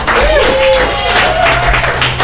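Patrons in a bar at an improv comedy night clap and cheer for the bartenders, a short, loud wash of hands mixed with hooting voices that fades slightly midway before swelling again.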